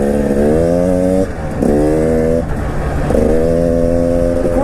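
A 2019 KTM 300 EXC TPI dirt bike engine revs hard and loud in three rising bursts with brief dips between, close by and with no talk over it.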